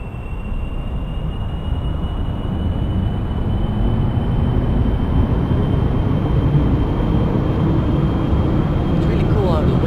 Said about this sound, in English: We have Jet Bada in the cockpit and we're going to be taking off into the air now.